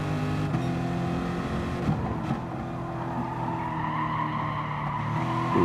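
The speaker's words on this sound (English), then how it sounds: "Dabbing the brakes to turn the car because the tyres are very, very worn now." Race car in Gran Turismo Sport on the Sardegna Road Track, braking on very worn tyres, with a steady engine tone, a brief tyre squeal, then the engine pulling again, loud and continuous with no talking.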